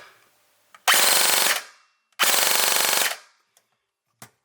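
Stock SIG MCX airsoft gun firing full auto in two loud rapid bursts of under a second each, separated by a short pause, with faint clicks and a final single snap after.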